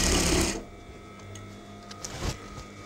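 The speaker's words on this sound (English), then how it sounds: "So just machine a few stitches, machine back and then back again, just to secure that end" Sewing machine stitching curtain fabric, a loud burst of rapid mechanical stitching for about half a second, then stopping and leaving only faint background hum.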